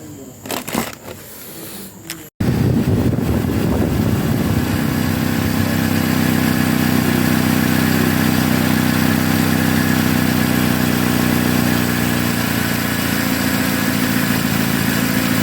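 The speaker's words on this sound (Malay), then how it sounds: "Okey, kita dah siap pasang motor fan baru." After a brief clatter, a newly fitted air-conditioner fan motor in a Perodua Aruz car starts and runs steadily with a constant whirring hum, like a small fan motor spinning continuously.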